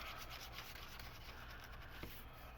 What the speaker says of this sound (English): find an emery board here. There are some bumpy things that I want to sand off.